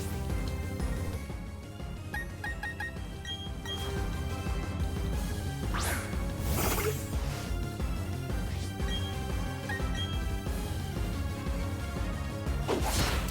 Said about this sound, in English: here comes the Metal Claw